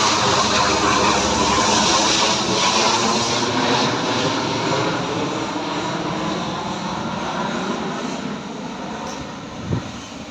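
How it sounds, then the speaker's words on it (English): An airplane passes overhead above a house construction site in Phetchabun, Thailand: a loud, broad engine roar that holds near and steady, then slowly fades as the aircraft moves away. "Another plane's coming."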